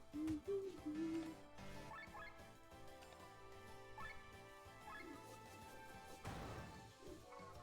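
An owl-like bird hoots a few times in the video game Chained Echoes, short tonal calls near the start set against soft game music, followed by a brief crash later on.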